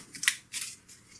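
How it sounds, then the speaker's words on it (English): Cards from the Fantahzee Heroes and Hordes board game shuffled close up, giving a few quick, papery riffling bursts in steady succession with no talking. "You'll shuffle these up so you don't know exactly where the boss monster is."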